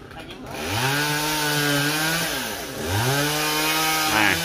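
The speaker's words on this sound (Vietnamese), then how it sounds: "anh Tùng sẽ chuẩn bị cưa cái phần đọt dừa nha các bạn." A chainsaw revs up and cuts steadily through a coconut palm crown, its whining engine pitch rising and dipping twice as it bites into the wood, loud and close.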